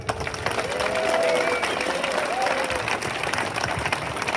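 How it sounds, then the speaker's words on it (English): Outdoor rally crowd at a free speech event in Batley applauds as a speaker is welcomed, a steady wash of clapping with crowd murmur and occasional voices throughout. "Round of applause for Paul"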